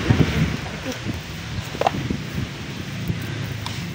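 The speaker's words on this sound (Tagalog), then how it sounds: "Sakto mahangin ngayon" Wind gusts outdoors in a steady, rumbling roar against the microphone, with rustling and a few brief knocks; people talk faintly underneath.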